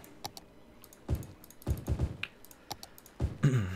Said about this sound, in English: I switched to this like old Apple keyboard that I have when I record because it's just so loud if I don't switch